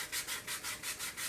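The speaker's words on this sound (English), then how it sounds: "I'm going to try sanding this" Rhythmic sanding of balsa wood parts, six or seven even back-and-forth strokes of abrasive rubbing, close and steady with no voices.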